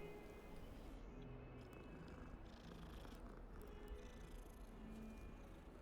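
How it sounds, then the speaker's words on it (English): A cat purrs in Hogwarts Legacy, a low, steady rumbling purr that runs continuously at a soft, quiet level with no talking over it. "The purring sounds very good."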